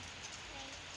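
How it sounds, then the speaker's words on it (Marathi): Steady rain hisses evenly across the whole moment, a dense wash of falling drops with no pauses. "पाऊस किती पडतोय बघ."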